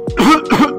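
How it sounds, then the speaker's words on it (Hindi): A man clears his throat several times in quick rough bursts, close and fairly loud, with no words spoken. "ये खांसी नहीं हो रही, मैं अपना गला साफ कर रहा हूँ।"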